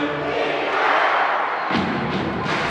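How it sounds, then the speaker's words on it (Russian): Ice hockey crowd at a KHL game between Vityaz and Sochi roars after a goal, a sustained arena cheer with a few thuds and a fresh swell of shouting near the end. "Ну и болельщики, конечно, здесь заводятся."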